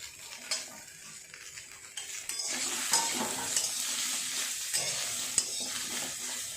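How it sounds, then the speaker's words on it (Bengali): Mixed vegetables for a Bengali shukto frying in a pan, a steady close sizzle with repeated scraping and stirring strokes of a utensil against the metal, growing louder midway and continuing without speech. "এই সবজিগুলো প্রথমে আমি ভালো করে ভেজে নেব"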